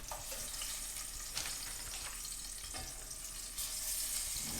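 Meatballs browning in a pan with garlic over raised heat give a constant close sizzle and spatter, with occasional stirring scrapes and no talking.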